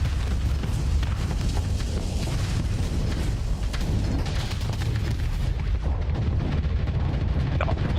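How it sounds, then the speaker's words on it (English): Plasma cannon fire and explosions roar nonstop during a space battle in the modded Starsector video game, a loud, dense wall of booms and rumbling blasts. "Yeah, plasma cannon."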